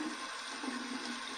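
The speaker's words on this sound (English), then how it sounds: "We're going to run this under some cold water" Cold tap water runs steadily in a continuous broadband hiss, with a razor held under the stream at close range and no pauses.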